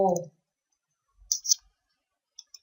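Mouse clicks on the OK button in OrCAD 16.5 circuit software: a quick, crisp double click follows a clipped scrap of voice, and then two fainter single clicks come near the end, all in near silence.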